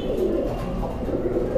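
Pigeons cooing at a pigeon farm, soft repeated low coos close by over a steady murmur of the flock, with no talk.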